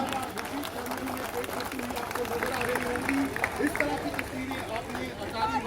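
Spectators at a Beating Retreat border ceremony parade between India and Pakistan applaud in a steady, dense wash of clapping, blended with crowd chatter and a voice over a loudspeaker.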